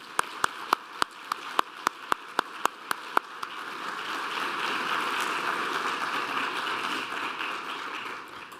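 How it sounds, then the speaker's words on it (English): A medical school graduation audience breaks into applause, starting with a few sharp, loud individual claps close by, then swelling into a broad, sustained wash of clapping from the whole crowd. "a round of applause for all the mentors, friends, family members, and patients who made it possible for all of us to be here today"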